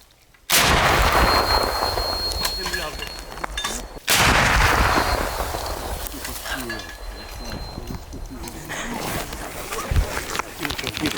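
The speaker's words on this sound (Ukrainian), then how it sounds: "Постріл!" A Ukrainian recoilless SPG fires a single loud, sharp shot at the start, and a second heavy blast follows about three seconds later. Both booms ring out over an outdoor background, with a faint later thump.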